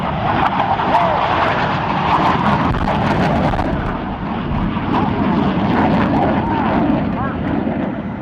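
Two F/A-18 Hornet fighter jets flying in on an attack profile at the NAS Oceana air show, a loud continuous roaring jet rumble filling the whole stretch, with an announcer speaking over it.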